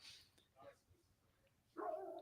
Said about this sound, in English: Now I hear the dogs